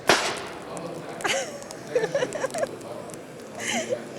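A motorcycle airbag vest at a motorcycle show fires its cartridge with a sharp, loud burst at the start, then inflates. Crowd noise and voices follow.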